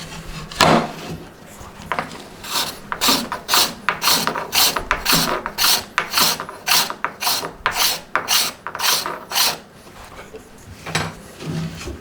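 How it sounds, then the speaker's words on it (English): A steel scraper working the wooden body of a violin in a luthier's workshop, giving a rhythmic series of close, loud rasping strokes, each a short gritty scrape with brief gaps between. "And we scratch. And we take the scraper."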